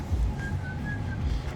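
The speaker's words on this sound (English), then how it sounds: "the dude will start whistling." A man whistles a short, thin wavering tune over steady background noise, faint and at a middle distance, with no talking.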